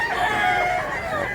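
Pure Brass Black gamecock, a four-year-old rooster, calling up close with a loud, continuous crow-like cry that fills the whole moment without pause.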